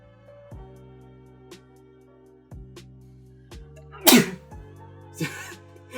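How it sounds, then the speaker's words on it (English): A single sharp sneeze bursts out over a quiet background hum, followed moments later by a softer breathy sound. "Nice sneeze."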